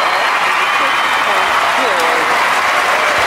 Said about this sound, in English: That pleases the crowd.